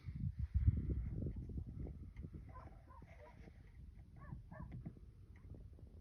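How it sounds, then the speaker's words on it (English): Reservation dogs barking and yipping at night, a few sharp calls over a low rumbling background, with a faint whimpering quality and moderate distance. "You hear the res dogs."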